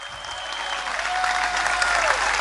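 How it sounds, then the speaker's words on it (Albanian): A large crowd applauds at a Socialist Party campaign-closing rally in the square before the Shkodër town hall, steady dense clapping that swells slightly and holds throughout, with faint voices mixed in. "Si fillim du një duartrokitje shumë të madhe për ju"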